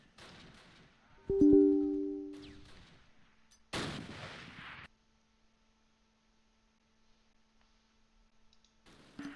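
Gunfire and artillery from the WWII strategy game Close Combat Last Stand Arnhem, set around Arnhem Road Bridge and Oosterbeek: sharp shots and a heavy booming blast with tonal clicks, then a near-silent pause and a faint final burst.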